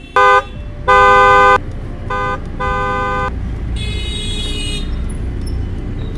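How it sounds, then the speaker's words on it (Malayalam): A car horn blares in several bursts on a busy road, two long blasts and shorter toots, loud and near, then a higher electronic tone over steady traffic rumble. "നീ ഒന്ന് ഹോൺ അടിക്കാതിരുന്നേ"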